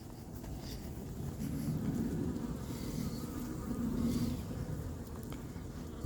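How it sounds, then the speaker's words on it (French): Honeybees return to their hive at an apiary, a close, soft, steady buzzing of many wings that swells gently and fades, with no voices. "Les abeilles rentrent"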